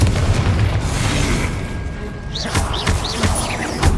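Spell blasts from Confringo and Flipendo in Hogwarts Legacy, a rapid run of booming thuds and bursts with whooshing magical tails, loud and close, one after another with no pauses.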